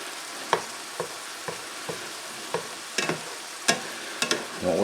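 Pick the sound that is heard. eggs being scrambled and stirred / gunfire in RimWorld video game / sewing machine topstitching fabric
eggs being scrambled and stirred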